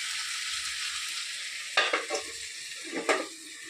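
Curry cooking in a pan after luchi have been fried, a steady frying sizzle with a few spatula scrapes and stirs, close up, with no talk.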